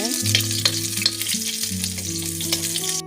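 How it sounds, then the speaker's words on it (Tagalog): Garlic and onion frying in hot oil, a loud steady sizzle with soft stirring scrapes and a low tonal hum running underneath, no voices. "At dahil mainit na yung mantika, ilagay na natin yung bawang. Sunod ko ilagay ang sibuyas."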